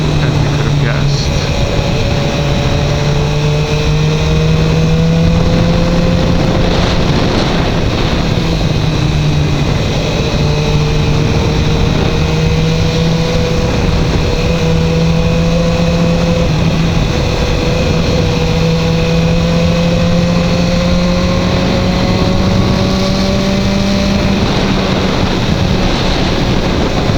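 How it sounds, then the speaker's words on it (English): A BMW S1000R motorcycle engine hums loud and close while riding, its pitch climbing smoothly through the gears with wind rush throughout. "And this bike's good at passing."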